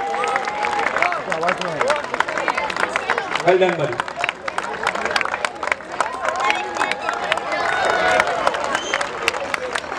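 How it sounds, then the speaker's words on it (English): Crowd applause at a youth football league prize ceremony, clapping and cheering mixed with babble throughout while someone speaks briefly over it. "can we have a loud round of applause?"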